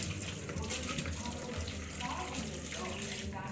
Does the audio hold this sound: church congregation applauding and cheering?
no